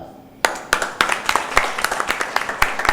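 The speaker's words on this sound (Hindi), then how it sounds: "जोरदार तालियां बजाइए, सबको कांग्रेचुलेट कीजिए" Crowd clapping at a birthday celebration event as winners are congratulated, starting abruptly from near quiet into a quick, steady run of individual claps that build into dense applause.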